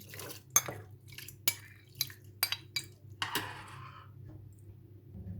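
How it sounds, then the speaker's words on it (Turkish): Rice poured into a pot of yayla soup being cooked, heard as a series of sharp clinks and taps against the pot followed by a brief pouring rustle, close and fairly quiet with no talking. "Şimdi içerisine yarım çay bardağı kadar pirincimi ilave ediyorum."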